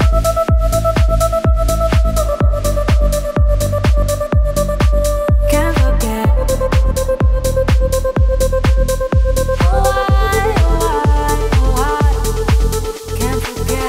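A stuttering, rhythmically chopped vocal effect layered over a pounding electronic drop with steady heavy kick drums, the gated vocal shifting pitch several times, loud and dense throughout.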